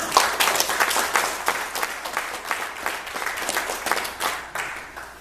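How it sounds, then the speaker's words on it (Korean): An audience at a breakfast forum applauds a guest speaker. The clapping comes in uneven waves that swell and ebb before thinning out. "여러분 큰 박수 부탁드립니다"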